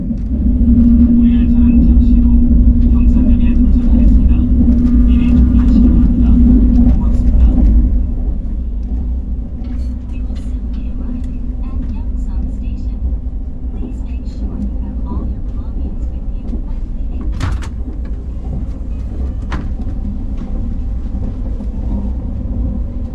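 A KTX high-speed train on the Gyeongbu Line picks up speed near Gyeongsan Station, heard from inside as a loud, continuous low rumble with a humming tone that eases after several seconds, while a voice speaks over it and occasional clicks sound.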